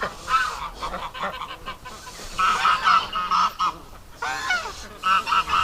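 Geese near a backyard duck and goose hatching setup honk loudly in repeated bursts, a noisy flock calling close by, overlapping harsh calls with no speech.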